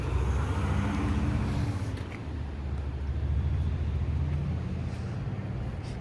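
A steady, deep engine rumble from inside a moving 2024 Toyota GR86 sports car, low and droning with slight rises in pitch, and road noise underneath.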